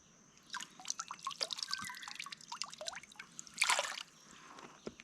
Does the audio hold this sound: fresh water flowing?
yes